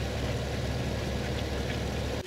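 A tractor engine in Farming Simulator 2015 idles with a steady, dense, mechanical drone and a slight knocking texture. It holds constant and close, then cuts off abruptly at the end.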